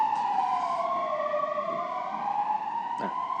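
An ambulance siren passing along a street, its wailing tone sweeping steadily up and down, loud and continuous for the whole stretch with faint traffic rumble beneath.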